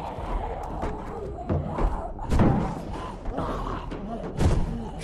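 An armory door being forced open in The Walking Dead game by Telltale: repeated heavy thuds and slams, three louder impacts among them, amid tense background sound and strained voices.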